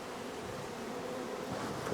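Steady, dense buzzing of many honey bees close by on a hive frame, a continuous hum with no voices.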